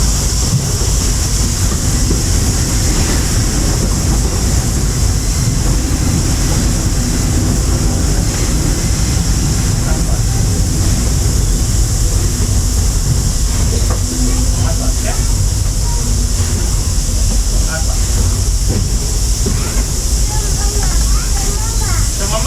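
The Walt Disney World Railroad steam train running through Fantasyland, a continuous loud rumble and hiss with rolling clatter, while someone talks over the noise.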